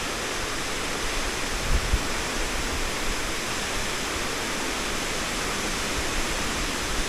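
Marokopa Falls waterfall and river in New Zealand, a steady, dense rushing roar of falling water that holds even throughout with no voices.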